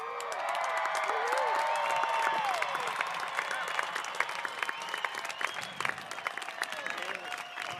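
A commencement crowd gives graduates a long, sustained round of applause with cheering and whoops, a dense wash of clapping filling the hall, with a voice speaking over it.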